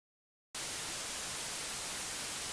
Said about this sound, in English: A comfortable white noise has been generated.